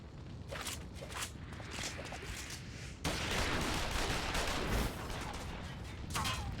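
Soldiers fire guns in Final Fantasy XIV, a dense, continuous crackle of gunfire filling the whole stretch and growing louder midway, with shouting voices mixed in.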